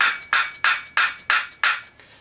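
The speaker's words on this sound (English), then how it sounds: "if you'll hit it with a hammer, just to make sure that keeper is where it's supposed to be" Hammer tapping a valve keeper on the cylinder head of a Suzuki Vinson 500 ATV during a valve job: six sharp, close metallic taps at an even, quick rhythm, with nothing else heard.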